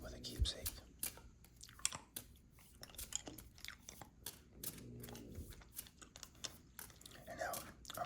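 Hard candy clicks and crunches in a mouth up close, with wet smacking and sucking sounds at irregular intervals, faint and intimate, mixed with soft whispering.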